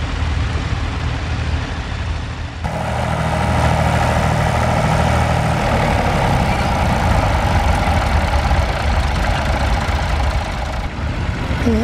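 A heavy tractor engine at a ploughing match runs loud and close, a steady low rumble that grows stronger after a few seconds and holds its chugging drone.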